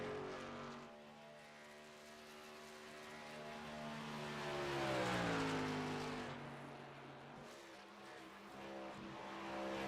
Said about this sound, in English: You can hear Atkins playing with that throttle through 3 and 4